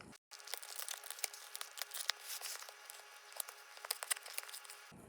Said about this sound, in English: Kind of tearing a little bit into the box here